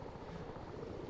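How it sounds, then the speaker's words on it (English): A video game helicopter's rotor in ARMA 3 thrums steadily at a moderate distance, a continuous pulsing drone without any voices. "I'm hearing a helicopter right now"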